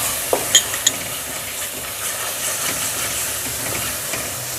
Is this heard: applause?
no